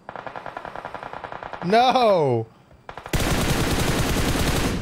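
Video game gunfire from hip firing at an enemy from behind: a rapid burst of automatic shots, then a tonal sweep and a brief lull, then a loud sustained stream of fire, with voices shouting over it.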